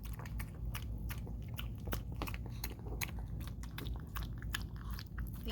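Dog chewing a bowl of homemade dog food mixed with dry kibble, quiet close crunching and wet biting in a quick uneven rhythm, no voices.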